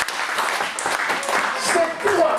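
A church congregation claps and cheers in a dense, steady wash of applause mixed with many raised voices, all fairly close and continuous throughout.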